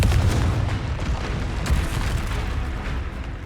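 Confringo fire-blast spell in Hogwarts Legacy, a loud, dense booming burst of explosive rumble that carries steadily through the whole moment with no voices over it.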